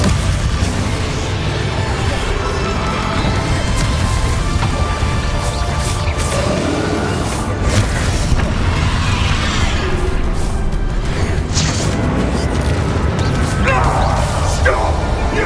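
Spell blasts and crashing explosions from the Hogwarts Legacy video game, cast with the Confringo spell, land as loud booms under a dense, continuous game mix with voices speaking throughout.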